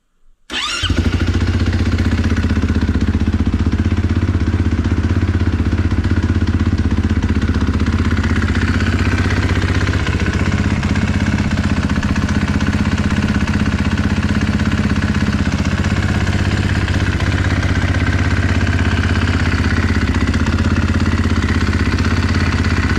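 KTM 450 SXF dirt bike engine firing up and then idling steadily to warm the oil, a loud close single-cylinder burble that holds level throughout with no talk.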